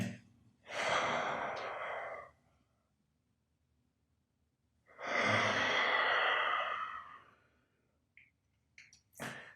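Two long, audible exhales through the mouth during a beginner yoga breathing exercise, each a breathy rush lasting over a second, separated by quiet pauses, with faint short breath noises near the end.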